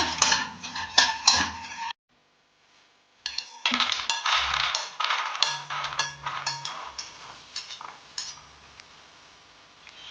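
Fried almonds being transferred from a pan onto a plate for a dry fruits laddu, with repeated close clinks and light rattling of a metal spoon against cookware, a short silent pause, then more scraping and clattering.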